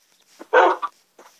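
Dog barking sound effect from the Mecp Master video game: a single loud bark burst followed by a shorter yelp, close and isolated.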